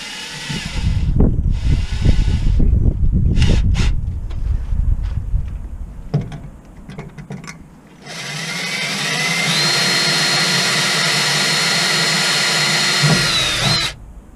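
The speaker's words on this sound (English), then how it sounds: "use this smaller one to drill a few little holes, weaken the little area around where we want to drill" Power drill boring small holes into the fuel tank of a 1998 Dennis Dart bus: several loud bursts of drilling with pauses and handling knocks, then a long continuous high-pitched whine of the drill biting through metal.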